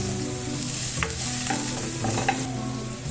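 Onion and tomato sauté in a pan for a Filipino sinigang, a steady close sizzle with scattered stirring scrapes and clicks throughout, no voices.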